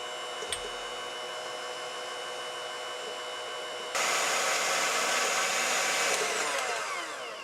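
An electric mixer beats egg whites with a pinch of salt for a fruit cake batter, giving a steady whirring drone that jumps louder and harsher partway through and then holds.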